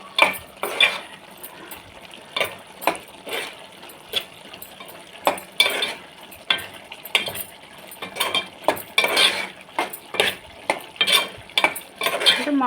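Chili powder and spices fry in hot oil, a soft steady sizzle broken by repeated sharp scrapes and clinks of a metal spoon stirring against the pan, close and fairly loud, with no talking.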